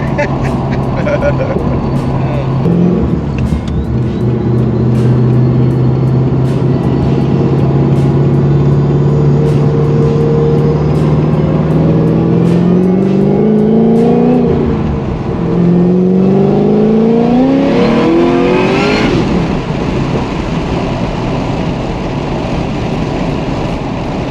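A tuned 1000 hp LS3-powered car making road-tune pulls, its engine note rising and falling through repeated accelerations, loud and close, with people talking over it inside the car.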